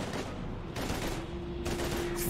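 Sustained gunfire from a firefight against husks in Mass Effect 3, a dense continuous fusillade with a steady hum beneath it and no clear gaps between shots.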